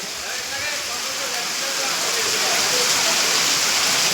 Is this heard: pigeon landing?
no